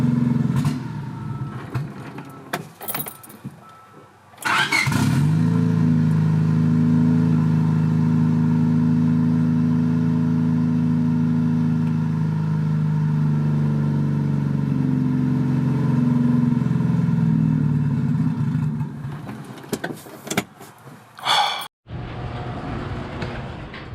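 Turbocharged Honda Civic with a D16 engine, heard as a steady, loud engine hum that runs for most of the time and briefly rises toward the end before cutting off.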